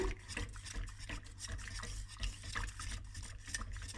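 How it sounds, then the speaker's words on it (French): A spoon scrapes and swirls through a thick orange-and-lemon cream mixture in a saucepan, a steady rubbing, sloshing sound over a low background hum. "quand je mets tout dans la casserole, je mélange bien"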